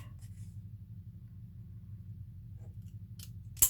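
Scissors cut through a paper band in a quiet room, giving faint snips over a low steady rumble and ending in one sharp, close crunch of the blades.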